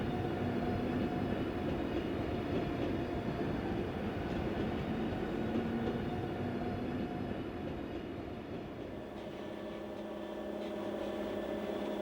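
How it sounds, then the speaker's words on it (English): Rhaetian Railway Glacier Express running on the Albula line, a steady loud rumble of train wheels and carriages rolling continuously throughout, with faint rhythmic rail clatter and no talk. "From Thusis, the train follows the Albula line."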